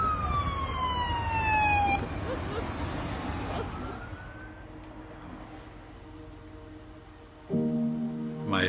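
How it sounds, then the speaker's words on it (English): A wailing ambulance siren sweeps up and down at close range, fades into background rumble, then returns loudly near the end. "Comes the ambulance."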